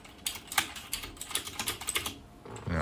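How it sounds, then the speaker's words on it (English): Keystrokes on mechanical gaming keyboards with blue and red switches clatter in quick irregular bursts of sharp clicks, close and moderately loud, with no voices. "So this will be the blue switch keyboard, and this will be the red switch keyboard."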